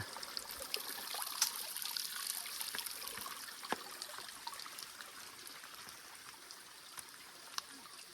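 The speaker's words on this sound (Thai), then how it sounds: "น้ำตกธรรมชาติ" A natural waterfall stream in the forest flows in a steady, soft trickle, with scattered small drips and splashes over a continuous watery hiss, heard alone at moderate distance.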